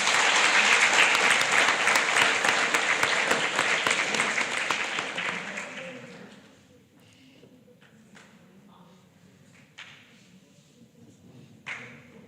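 Audience applause at a primary school Grade 7 prize-giving ceremony, loud crowded clapping that holds for about five seconds and then tapers to near quiet, with a few isolated claps afterward.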